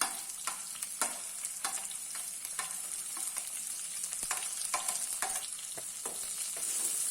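Chopped shallots and onions sautéing in a pan for a chicken curry, a soft, steady sizzle punctuated by regular scraping stir strokes, close and fairly quiet, with no speech.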